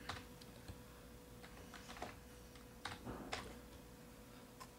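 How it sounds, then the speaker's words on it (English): Keys clatter on a computer keyboard as commands are typed, in irregular bursts of close, quiet clicks with short pauses between them and no speech. "So then you want to type go / exit."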